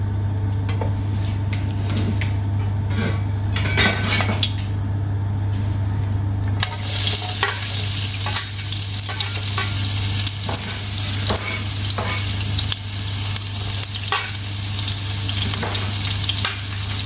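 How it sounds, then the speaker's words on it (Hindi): Paneer sautéing in about a quarter cup of hot oil in a pan, a loud, constant close sizzle that brightens partway through, with stirring scrapes and a steady hum beneath. "पनीर को मैं सौटे कर लूँगा।"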